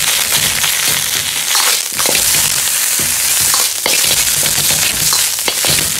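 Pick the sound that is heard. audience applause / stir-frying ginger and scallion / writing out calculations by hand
stir-frying ginger and scallion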